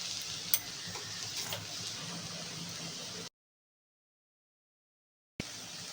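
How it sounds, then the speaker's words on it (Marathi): Ground garam masala being stirred into a pan of sukka chicken masala, a soft scraping and sizzling for about three seconds, then silence, then the stirring briefly resumes. "हा आपण गरम मसाला होता मिक्सरला ग्राइंड केलेला, तो आता मी ह्याच्यात मिक्स करून घेत आहे।"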